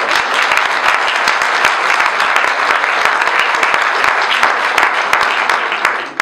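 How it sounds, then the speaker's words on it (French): An indoor audience at a festival opening bursts into loud, sustained applause, dense steady clapping from many hands filling the room without a break. "je vous propose de l'applaudir bien fort"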